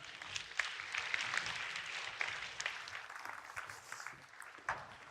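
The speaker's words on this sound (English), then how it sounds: "we can have a big round of applause" A crowd claps steadily, a dense wash of many hands at moderate distance, holding an even level throughout with no voices.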